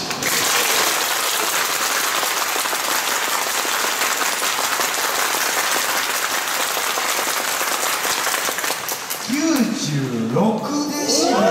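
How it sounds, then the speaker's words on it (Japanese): Dense, loud audience applause fills a Japanese singing contest semifinal hall after a performance, steady throughout before easing near the end as voices and a brief tonal sound emerge. "拍手"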